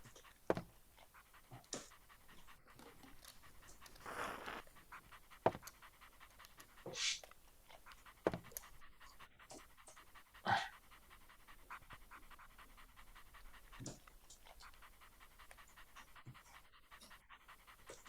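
A dog pants close by outdoors in quick, soft repeated breaths, with louder bursts of movement and rustling scattered throughout.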